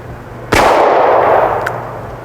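A single loud, sharp report from a New England Firearms R73 revolver firing a 32 H&R Magnum round, with a long ringing decay that trails off over about two seconds outdoors.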